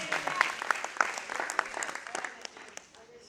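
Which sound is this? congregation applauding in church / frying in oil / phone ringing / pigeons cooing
congregation applauding in church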